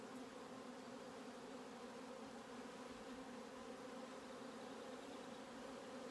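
Honey bees swarm over a brood frame from a spring nuc, a steady, even hum of many wings filling the air at low volume with no voices.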